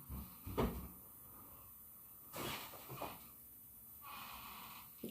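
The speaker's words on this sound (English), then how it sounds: "I hear you up in there slamming doors." Doors slamming inside a house, a few loud thumps and bangs spread across the moment with some rattling afterward, heard from nearby with no speech.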